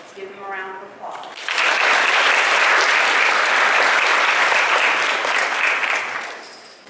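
Sustained audience applause fills a school awards ceremony for middle school eighth graders, a loud, steady wash of clapping that swells after a brief spoken introduction and holds for several seconds before tapering off.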